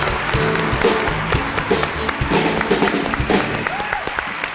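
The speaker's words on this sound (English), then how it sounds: "Let's give a round of applause to the 6 dedicated eco and humanitarian organizations." An audience gives sustained, steady applause at a concert event honoring eco and humanitarian organizations, a dense patter of many hands clapping with no voices above it.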